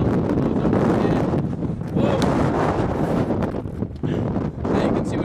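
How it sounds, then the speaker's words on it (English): Strong wind in Patagonia, Argentina, roars and buffets the microphone in loud gusts that dip briefly and surge back. "The wind is really howling out here."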